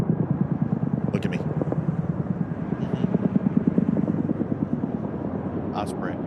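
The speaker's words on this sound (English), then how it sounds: "Oh, Chinook. It's a Chinook." A Chinook helicopter drones steadily throughout, its rotor ripple a low pulsing thrum, with a few faint higher chirps on top.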